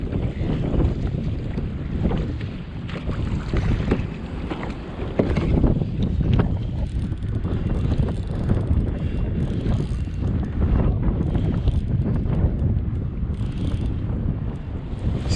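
Steady wind buffets the microphone while a kayak rides choppy water at sea, a loud continuous low roar of gusts with faint wave wash beneath, no one speaking.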